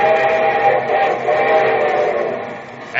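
A steam train whistle sounds long and steady over the rolling rumble of the train, fading slightly toward the end.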